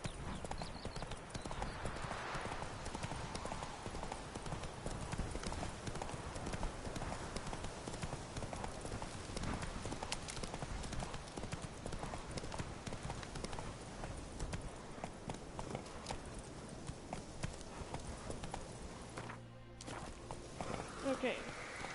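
Roach, a horse in The Witcher video game, gallops with steady rapid hoof clip-clops throughout, loud and continuous, while a player talks over the game sound at times.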